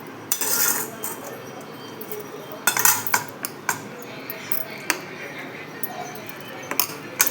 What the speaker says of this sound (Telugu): శుభ్రంగా కలుపుకుంటాను.